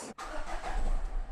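A Renault Clio's engine starting, with a short cranking burst that cuts out, then catches into a low, steady idle rumble close by, fairly quiet overall.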